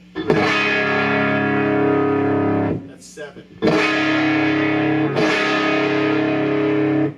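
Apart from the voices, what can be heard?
Ovation Breadwinner electric guitar with fuzz-like distortion, cranked up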